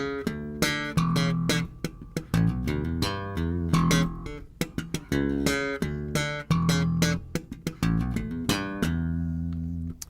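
Slap-and-pop bass guitar lick, thumb-slapped low notes alternating with sharp popped higher notes in a quick syncopated rhythm, played solo, close and loud throughout.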